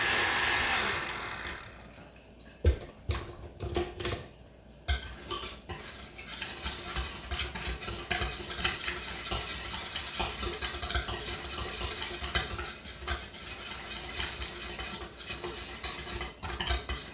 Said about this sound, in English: every so often I'm going to take the whisk off and actually mix this by hand